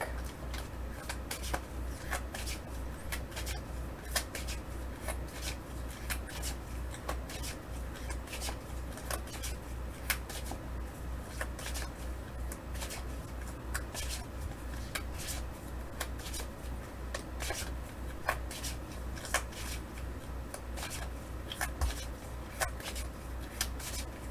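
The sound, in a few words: shuffling a deck of tarot cards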